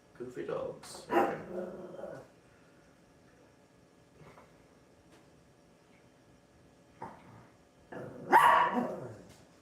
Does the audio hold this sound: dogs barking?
yes